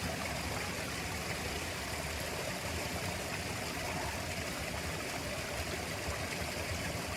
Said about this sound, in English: The secret little waterfall.